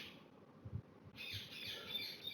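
A pet bird squawks and chirps near a microphone, sharp, scratchy, raspy calls repeating in short bursts over a low background hum, loud enough to stand out with no one talking.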